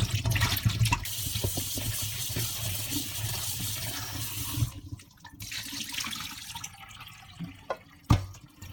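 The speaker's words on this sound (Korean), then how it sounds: "요리를 하기 위해서 일단은 이거를 물로 깨끗이 씻고" Brussels sprouts are rinsed under a running kitchen tap: close splashing water pours steadily, then breaks into intermittent drips and trickles with a few sharp knocks toward the end, no voices.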